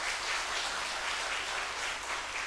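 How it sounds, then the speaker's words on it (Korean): A church congregation at a revival service claps together in a sustained, even burst of applause, full and continuous with no voices on top. "우리 박수로 다시 한번 격려합시다."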